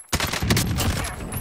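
Gunfire in Call of Duty: Warzone, a sudden loud burst of rapid automatic shots, close and sharp, continuing steadily without talk.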